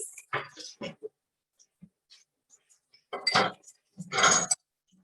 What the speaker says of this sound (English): Oh boy, now it's a whisk.